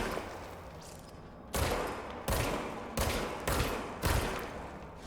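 Rechargeable gun in a video game firing in five sharp bursts spaced about a second apart, each a loud crackling volley over a quiet background.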